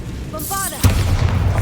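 Bombarda explosion spell in Hogwarts Legacy, a voiced cast followed by a sudden booming blast and a rumbling tail.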